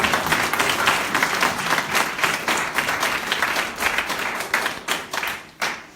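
A church congregation claps loudly and continuously during a sermon, with dense, lively applause that thins near the end.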